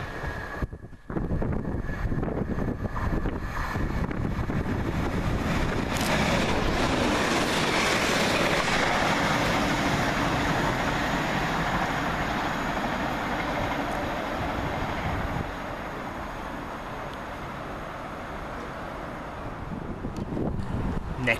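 Class 195 unit 195102 on a Leeds to Chester service races through Frodsham station, a loud, close, broadband rush with wind buffeting that holds steady for most of the pass before easing slightly toward the end.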